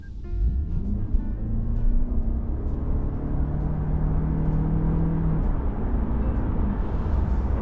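A 2026 Toyota Camry XSE, front-wheel drive, accelerates hard: a steady engine drone heard from inside the car rises in pitch through the gears, loud and continuous with no talk.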